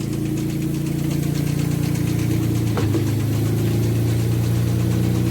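A car engine idles steadily nearby, and midway there is a short clunk and a brief shift in tone as it is put into gear before it settles back to a steady run.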